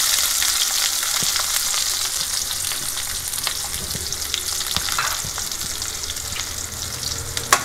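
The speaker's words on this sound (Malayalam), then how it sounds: "ഇനി കൊച്ചുള്ളി അരിഞ്ഞിട്ട് ഇടാൻ പോവാണ്." Chopped shallots fry in hot oil with mustard seeds for a drumstick leaf and jackfruit seed stir-fry, giving a steady, close, dense sizzle with occasional small pops and crackles throughout.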